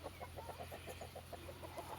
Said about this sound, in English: that hen just chased that little rooster off